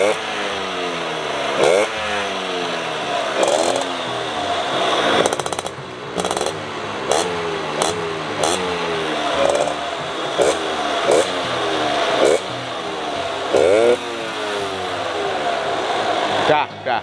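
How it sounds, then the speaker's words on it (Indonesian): A Suzuki RC100 motorcycle in rough condition runs close by, its engine chattering with a rapid, steady rhythmic ticking knock that holds for the whole stretch with only small dips. "Kalau kita dengar langsung mesinnya halus, tapi kalau di video tetap klek klek klek klek klek klek ya."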